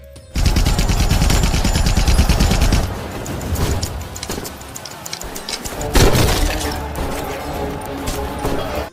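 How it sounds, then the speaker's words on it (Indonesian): Dense bursts of assault rifle fire crackle through a film battle scene, rapid volleys loud and continuous with brief lulls and a renewed surge near the end, mixed with crashing impacts. "baku tembak terjadi. Dar dedor di berondong senapan serbu"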